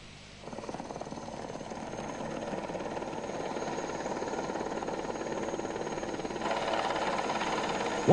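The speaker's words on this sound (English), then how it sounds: "the helicopters of Aviation Command take over" Military helicopters of an aviation command flying over high mountain valleys, a steady thudding rotor drone that rises in loudness and grows heavier near the end, continuous with no voices.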